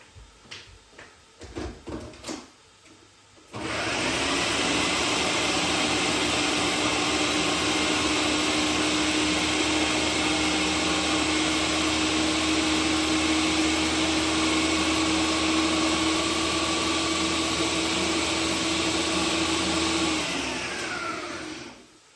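Food processor or blender whirring loudly and steadily for about eighteen seconds as lentils and walnuts are blitzed into a coarse paste for a ragu, preceded by a few knocks and clatters as the lid goes on.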